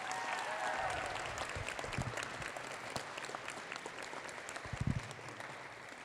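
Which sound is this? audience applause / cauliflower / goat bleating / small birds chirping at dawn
audience applause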